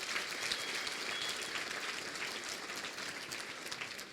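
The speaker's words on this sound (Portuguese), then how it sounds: "uma salva de palmas para todo o time da RD" Steady applause from a conference audience for a marketing team, a continuous wash of many hands clapping at moderate distance, fairly even from start to finish.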